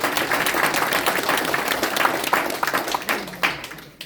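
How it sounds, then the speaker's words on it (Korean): Applause at a press conference for a party merger, a room of people clapping steadily and loudly, thinning out toward the end. "박수 한번 주세요."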